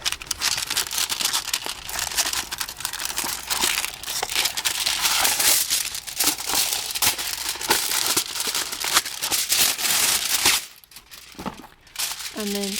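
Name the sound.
aluminum foil crinkling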